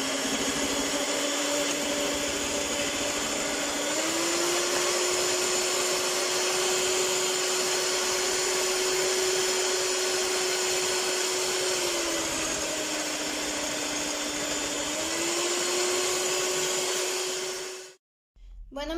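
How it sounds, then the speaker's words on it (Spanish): Electric hand mixer beating chocoflan batter, a steady close whine that steps up and down in pitch as the speed changes, then cuts off abruptly near the end. "Y seguiremos batiendo por unos minutitos más e integraremos nuestro pan."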